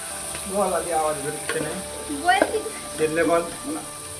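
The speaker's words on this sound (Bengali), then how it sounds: "পেঁয়াজ দেওয়া হয়ে গেল। পেঁয়াজটা বাদামি করে নেওয়া হবে।" Onions sizzle and hiss as they brown in a pan for a Bengali mutton curry, a constant frying crackle running beneath a person speaking over it.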